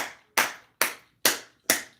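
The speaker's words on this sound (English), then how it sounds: "He's clapping." A person claps four times, each clap sharp, loud and close, spaced at an even rhythm with short silences between.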